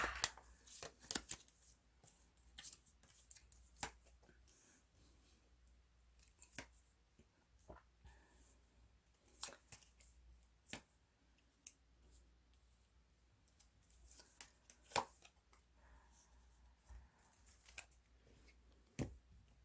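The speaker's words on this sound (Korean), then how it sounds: "카드를 열어보겠습니다." Tarot cards handled and flipped over on a table during a reading, giving soft scattered clicks, taps and shuffling snaps, close and fairly quiet, with brief pauses between bursts.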